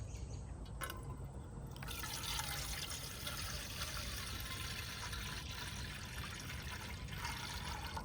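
Water pours steadily into a camping kettle at a hammock campsite, a continuous close trickling stream that runs for several seconds without talk.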